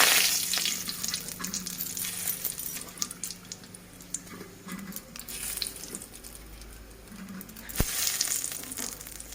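Bay leaves and spices frying in hot oil in a home kitchen, a continuous close crackling sizzle with scattered pops and occasional scraping, steady and moderately loud, no voices.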